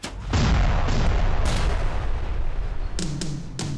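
Cannon fire bursts out loud and close in the open air at a stately hilltop home, a heavy boom with a long rumbling tail, followed by several further sharp reports near the end.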